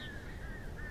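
Crows caw in the Alan Wake video game, with a couple of harsh, drawn-out calls at moderate distance over a soft ambient background bed.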